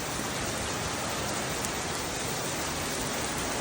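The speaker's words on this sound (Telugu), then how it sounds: "విపరీతమైన రెయిన్ అన్నమాట." Heavy rain pours down continuously outside a school at Agiripalli, a dense, even hiss of drops on surfaces filling the whole moment with no voices.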